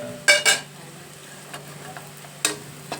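Onions and green chillies fry in a pan for a fish curry, a soft low sizzle broken by a few sharp, close clinks of a spatula against the pan as they are stirred.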